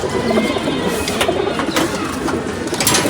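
Male pigeons in a cage cooing nearby, soft rolling coos repeating at irregular intervals over a constant noisy background, with no voices.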